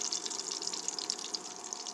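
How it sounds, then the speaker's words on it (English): A little water poured into a ginger, garlic, coconut and tomato paste for veg biryani kurma, a faint, steady trickling with light bubbly splashes throughout. "Now I am adding little water with this."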